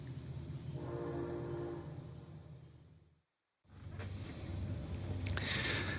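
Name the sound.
passing train with horn heard through window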